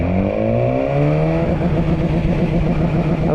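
A 2019 BMW S1000R Gen. 2 motorcycle engine revs in first gear against its pit lane speed limiter, a loud, close, steady buzzing drone that climbs, then holds and stutters at the cut-off with a rough, pulsing edge.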